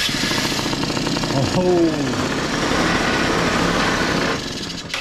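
A 2008 Yamaha Zuma 50 two-stroke scooter engine runs steadily at close range, a dense buzzing drone that holds throughout and eases slightly near the end, with a brief voice exclamation over it.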